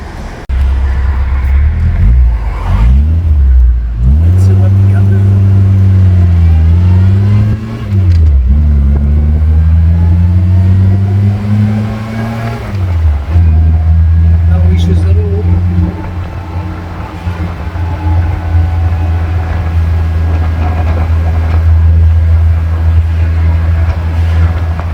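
A 1967 MG Midget with a newly replaced fuel pump pulls away and drives, its small engine loud and close, rising and falling through gear changes before settling into a steady cruising drone.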